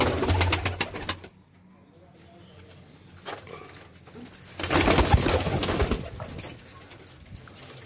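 Domestic pigeons kept at home coo in low repeated calls, with rustling and fluttering bursts near the start and again midway, close by and fairly loud, no talking.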